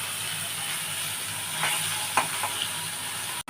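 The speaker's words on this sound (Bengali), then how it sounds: "মাছগুলো ভাজা হোক বন্ধুরা" Morola fish frying in mustard oil, giving a steady, fairly soft sizzle with a few brief crackles and pops from close by.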